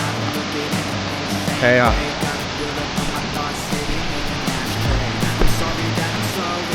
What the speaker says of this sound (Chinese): 所有的这种水都是从前面那个大瀑布流下来的